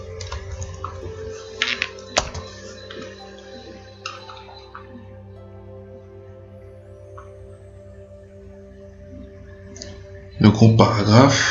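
Keyboard shortcut presses while working in Microsoft Word: scattered sharp clicks of a computer keyboard over a steady background hum, ending in a louder burst of rapid key taps.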